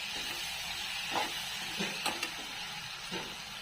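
Green chili masala with garlic and coconut being stirred in a pan, a soft steady sizzle with a few light scraping and clinking strokes of the spoon, close and alone.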